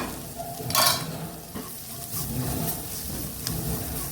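Prawn masala frying in ghee in a pan, a steady soft sizzle with a few scraping stir strokes and light clinks from the pan.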